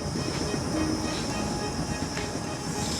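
A small steam locomotive rumbles and chugs steadily up a rack railway toward a summit, with a continuous hiss over the low mechanical clatter.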